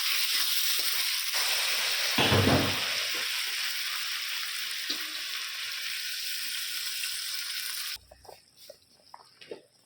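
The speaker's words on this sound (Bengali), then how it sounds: "হালকা একটু ভাজা জল দিয়ে দেবো।" Water poured into spices frying in a pan for a pabda fish curry with beans and potatoes, giving a loud, steady sizzling hiss with a brief burst of pouring and bubbling, then it stops abruptly and quieter clinks follow.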